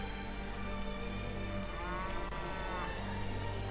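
Cattle lowing in the Civilization 5 strategy game, a few drawn-out moos over a steady bed of game music and ambience, no speech.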